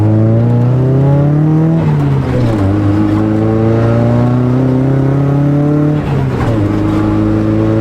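A Nissan 180SX with an SR20 engine, bought as a supposedly blown-up car, runs loud and close, its steady engine note rising and dipping through several revs without any voices.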